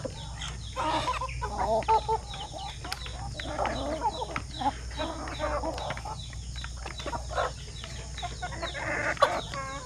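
Purebred chickens cluck in a coop, a busy scatter of short clucks and calls from several birds at moderate distance over a steady background hum.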